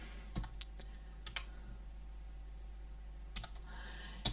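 Scattered keyboard clicks while entering a formula into a spreadsheet, a few separate key taps close by in a quiet room, with longer pauses between short bursts.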